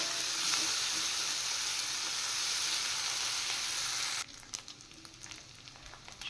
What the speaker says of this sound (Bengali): শুটকি মাছ ভাজা হয়ে গেছে